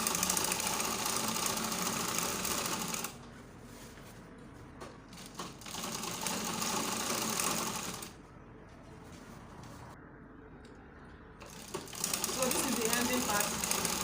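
A sewing machine runs stitching a gathered baby girl's gown, a close rattling mechanical whir in long bursts that stop and start, with someone talking over parts of it.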